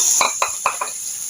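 Metal spoon clinking against a pan as a tadka is stirred for split moong dal, four quick, close taps over a faint steady hiss.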